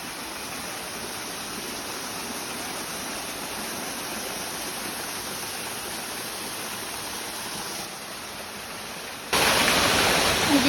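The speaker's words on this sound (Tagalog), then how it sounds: "Dito yung ilog." A river flows steadily at a resort, a broad, continuous rush of water close by that grows louder near the end, with no talking over it.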